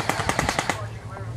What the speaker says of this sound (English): Let him know we're getting heavy fire.